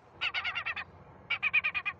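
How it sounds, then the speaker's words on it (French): A recorded gull distress call played through airport bird-scaring equipment at Roissy Charles de Gaulle, heard as two quick bursts of rapid, pulsing squawks separated by a short pause, fairly loud and alone. "Son de détresse de la mouette."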